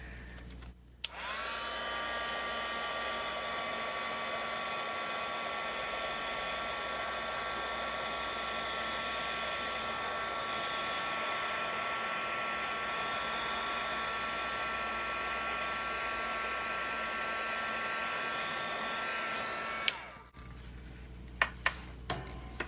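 A heat embossing tool melts embossing powder on a papercraft project, giving a soft, steady hair-dryer-like whir that switches on, runs evenly for nearly twenty seconds and then clicks off.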